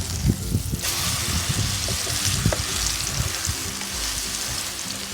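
Egg with cha-om (acacia shoots) frying in oil in a pan, a loud continuous hiss and bubbling sizzle that swells suddenly early on, with low clunks from the pan and a faint voice at moments.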